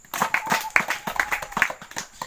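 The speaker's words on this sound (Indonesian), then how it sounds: "Tepuk tangan untuk kelompok 3." A group claps for a team during an outdoor athletics lesson on walking and running, with short uneven bursts of close hand claps over about two seconds and a little voice mixed in.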